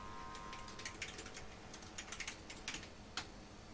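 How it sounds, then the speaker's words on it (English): Fingers type a password on a computer keyboard at a command line prompt, a steady run of light, close key clicks with a few sharper taps. "We type in our password"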